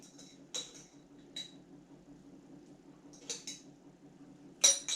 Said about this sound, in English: And stir those round well.